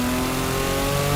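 A 1000whp Porsche Turbo engine held in third gear around 4,000 RPM, a loud, steady harmonic drone that rises slightly at the end.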